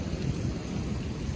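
Steady rain pours down over flooded streets in Gujrat, with a continuous broadband wash close to the microphone that never lets up, along with faint wind noise.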